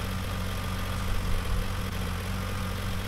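In Farming Simulator 19, a tractor engine idles with a steady, droning low hum and a faint mechanical vibration, continuous and unbroken.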